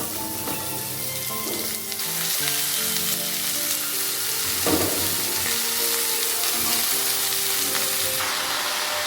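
Chopped bottle gourd is fried with ground spices over a medium flame for a prawn and gourd dish, giving a continuous close sizzle with occasional stirring and scraping sounds and no voices.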